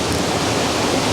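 A single-tier waterfall pours into a mossy canyon grotto, a dense, unbroken roar of white water, loud and steady with no other sounds.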